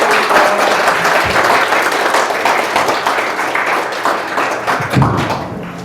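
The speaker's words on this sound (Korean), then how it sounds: "힘찬 박수로 시작하도록 하겠습니다." Loud, close applause from an audience opening a book launch celebration for a Korean translation and commentary of Hegel's Phenomenology of Spirit, with dense continuous clapping and a few thumps throughout.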